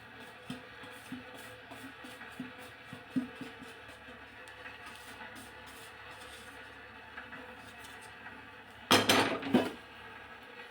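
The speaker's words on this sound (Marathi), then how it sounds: "हा संपूर्ण जो भाजलेला रवा आहे तो चांगला मिक्स करून घ्यायचा" Roasted semolina stirred into hot sugar syrup in a pot for rava laddu, with soft scraping and occasional clinks of a spoon against the vessel, ending in a louder burst of metallic rattling.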